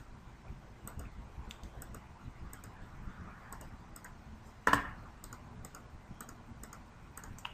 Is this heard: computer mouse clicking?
yes